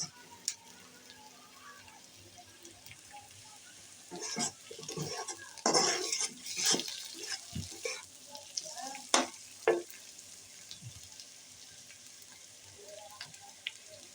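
Puti fish hit hot oil in a pan with a bright crackling sizzle, and a utensil clatters and scrapes against the pan through the middle, with quieter frying before and after.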